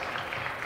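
A brief burst of steady clapping from Center Grove supporters in a high school gym during a girls' basketball game against Edinburgh, dense and even.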